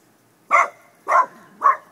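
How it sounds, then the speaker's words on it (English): Dog barking three times in a steady, evenly spaced rhythm, each bark short and sharp, fairly close and loud against a quiet background. "What are you barking at, Puddin?"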